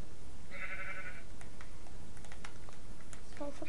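Sheep in a video game bleat once in a short wavering call, followed by scattered light clicks and taps amid a soft background hiss.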